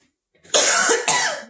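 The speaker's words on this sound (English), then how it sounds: "And when I talk a lot, I cough." Two harsh coughs close together, the first longer and the second a quick follow-up, loud and close with no talking around them.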